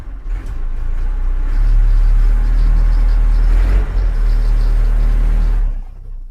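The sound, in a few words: car engine revving in four-wheel drive, pushing up a hill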